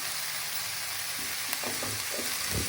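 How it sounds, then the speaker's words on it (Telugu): Powder is stirred into food in a pan over a low flame. A steady sizzle of frying runs throughout, with soft spoon scrapes and stirring strokes near the end. "ఇప్పుడు దీన్ని సిమ్లో పెట్టుకొని బాగా కలుపుకోవాలి."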